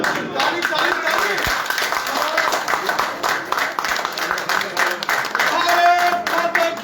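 Audience applause at a BJP joining event in Jammu and Kashmir, steady dense clapping from a crowd running throughout, with voices mixed in beneath.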